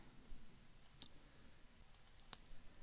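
Two brief, quiet clicks from a computer mouse while working with connectors in LibreOffice Draw, spaced about a second apart over a faint background hiss.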